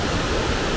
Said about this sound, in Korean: 이 폭포가 가장 마지막 폭포라고 합니다